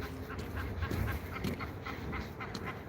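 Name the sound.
wild ducks quacking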